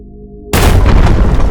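In the video game Solar Smash, after a moment of low hum, a planet explodes in a sudden loud, dense boom that sustains as a roaring rumble.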